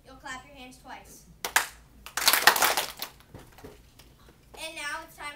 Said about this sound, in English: When I am ready to begin, I'll clap my hands once